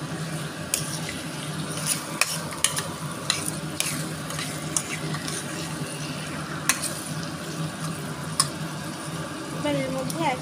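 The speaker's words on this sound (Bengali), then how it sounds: "মাংসটা দিয়ে ভালো করে মশলার সঙ্গে মিশিয়ে নেব।" Marinated mutton is stirred and fried with spices in a pan, giving a close, continuous sizzle with scattered scraping knocks and clatters.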